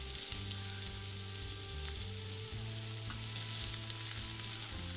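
Whole spices such as cinnamon, cloves and stone flower, with ginger, garlic, pepper and fennel, fry in a pan for crab masala. A steady, close sizzle runs throughout, broken by faint scraping and stirring. No one speaks.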